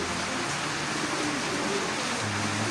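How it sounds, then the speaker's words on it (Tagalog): Heavy rain pouring steadily outdoors near birds kept for breeding, a dense continuous hiss with a faint low hum appearing near the end; no one speaks. "Ang lakas ng ulan."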